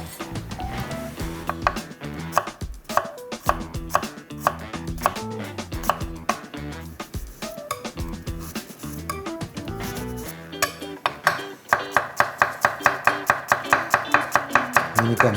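Garlic finely minced with a knife on a cutting board for a clam and fava bean stir-fry, rapid close chopping taps in steady runs that speed into a dense even rhythm near the end, with no voices.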